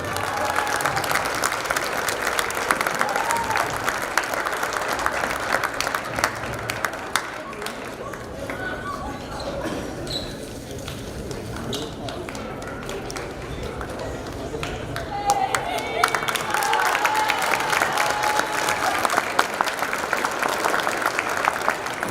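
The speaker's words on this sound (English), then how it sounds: "how about another round of applause for all of the seniors here tonight at the Marv Meredith Gymnasium" A crowd claps and cheers for the senior players at a girls' high school basketball game in the Marv Meredith Gymnasium, steady and sustained, swelling again near the end with a public-address voice over it.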